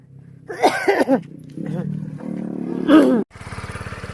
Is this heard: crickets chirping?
no